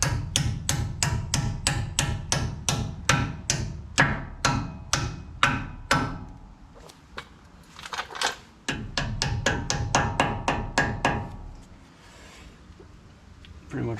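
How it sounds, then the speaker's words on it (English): Hammer tapping pins into the front hub of a 1994 Ford F-350 4x4 during wheel bearing and brake work: steady rapid metallic strikes, a brief pause, then another quick run of close, sharp taps. "And then these just get tapped in with a hammer."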